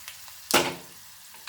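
Hot tadka hits Goan sol curry, a kokum and Kashmiri chilli curry, with one sharp, loud sizzling burst that quickly fades, framed by a few faint clicks before and after.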